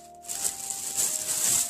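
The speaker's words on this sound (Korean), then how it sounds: "비닐 소리 양해 부탁드립니다." Close plastic wrapping crinkling and rustling steadily, bright and crackly, filling the short clip.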